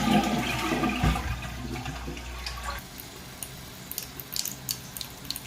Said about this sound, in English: Watch what happened when I flush the toilet.